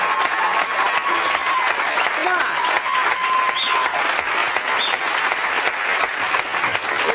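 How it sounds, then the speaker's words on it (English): A studio audience at a taping of the sitcom Home Improvement breaks into a loud, sustained round of applause for a hardware guest, dense clapping filling the room throughout while a voice calls out briefly over it. "I think Wes Davison deserves a big round of applause"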